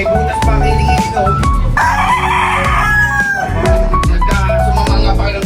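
A fighting rooster being bathed lets out a loud, strained crow near the middle, with clucking and other farm birds calling close by throughout.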